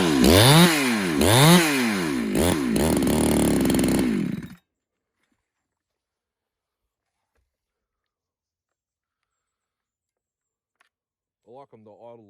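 A 372 X-torq clone chainsaw engine runs loud and close, its pitch rising and falling in several revs for about four seconds before cutting out to silence. A brief voice follows near the end.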